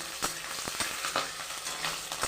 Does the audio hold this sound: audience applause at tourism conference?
no